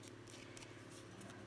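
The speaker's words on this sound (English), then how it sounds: "And I'll use the scissors again real quick" Scissors snipping through paper while trimming a handmade Christmas tag, a soft, steady run of close cutting sounds with no pauses over a quiet room background.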